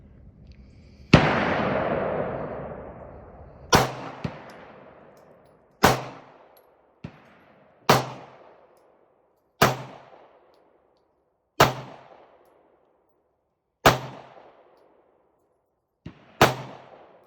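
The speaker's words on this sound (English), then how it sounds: "Line up your shots and squeeze the trigger." About ten sharp gunshots fired at shooting targets, spaced irregularly over several seconds. Each crack is loud and close, with a reverberant tail, and a few fainter reports fall between them. No one speaks.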